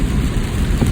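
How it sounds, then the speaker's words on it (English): Heavy rain falling at night in England, a loud dense steady roar of drops on surfaces with low rumbling beneath, no voices. "it's been raining like every day or every night"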